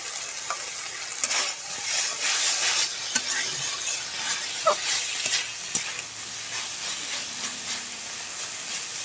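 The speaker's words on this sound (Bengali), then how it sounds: "এখন ঢাকাটা একটু খুলে নেড়ে দেবো" Chicken filling in a pan is stirred after the lid comes off, with a continuous hissing sizzle and steam and scattered scrapes and taps of the spoon throughout, with no one talking.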